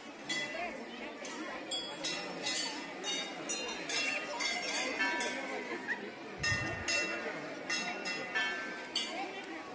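At the crowded Maa Ghanteswari temple, several metal temple bells, large and small, ring again and again in bright, overlapping strikes over a background of crowd chatter.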